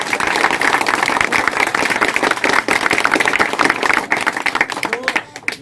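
Applause from an audience at an engineering coaching prize-giving event in India, dense steady clapping that runs loud throughout and thins out near the end.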